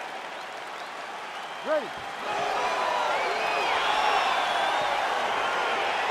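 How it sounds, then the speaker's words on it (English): A video-game arena crowd in a UFC 4 fight swells into applause and cheering as the bout begins, rising after a brief announcer voice and holding a steady roar with whistles. "crowd getting excited as this fight gets underway"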